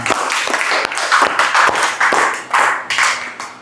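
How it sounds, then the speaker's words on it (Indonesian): A class of people clapping together during a lesson, a brisk, dense burst of applause that swells and fades over a few seconds. "Tepuk tangan buat kita semua."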